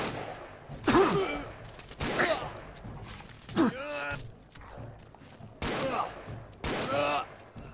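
Plasma pistol gunfire in Fallout 4, about five sharp zapping shots spaced a second or two apart, each with a bright electronic tail, one followed by a descending whine, with quieter mechanical noise between.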